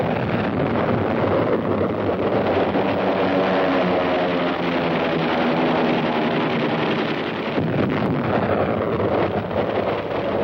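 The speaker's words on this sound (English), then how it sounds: "right now you could hear our planes going up again to cut the city off" Military aircraft taking off near Paris during WWII, a loud, continuous roaring drone of engines that holds steady throughout with no voices.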